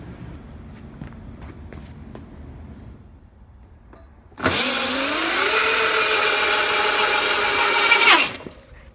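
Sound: Voloci electric bike motor running on Kelly KBS controller

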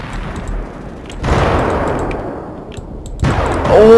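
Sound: Kalashnikov machine gun fire in video game Ravenfield

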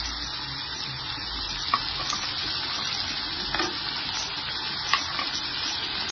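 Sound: onion, ginger, garlic and dried chilli sautéing in a pan

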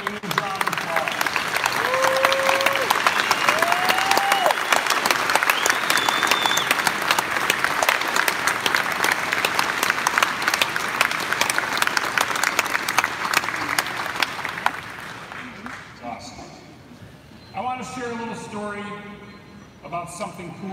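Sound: audience applause at a Harley-Davidson dealer show

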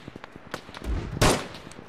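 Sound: machine gun fire in the video game Arma 3

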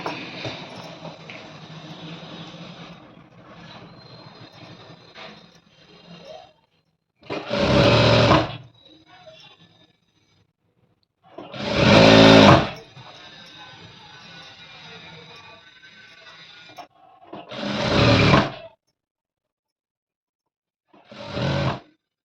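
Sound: sewing machine stitching a dress side slit

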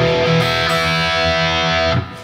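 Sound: distorted electric guitar playing a riff slowly

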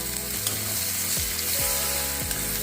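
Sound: chopped tomato and onion added to sizzling tempering

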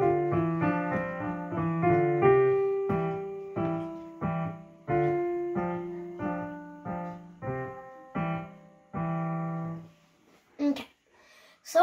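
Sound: piano playing second line of a piece

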